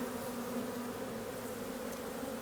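Honeybees buzz steadily and densely around hive frames pulled from a deep box during an early-season split, a close, continuous drone with no talk over it.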